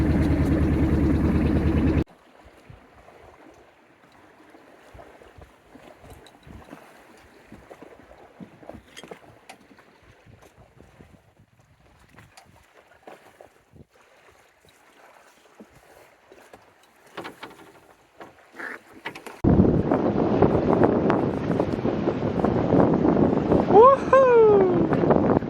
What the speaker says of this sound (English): We're sailing across Cape Caution tonight.